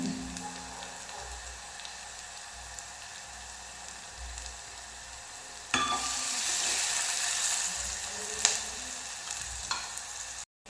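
Sliced onions sautéing in a pan for a Tamil snake gourd kootu, giving a steady, close sizzle that grows louder and brighter about halfway through, with occasional stirring clicks and no talk.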